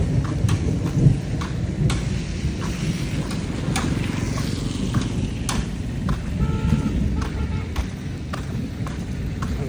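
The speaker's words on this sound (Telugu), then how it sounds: "ఉరుములు సౌండ్ వినొచ్చు." Rumbling thunder under steady heavy rain, a continuous low roar with scattered sharp drips and knocks throughout.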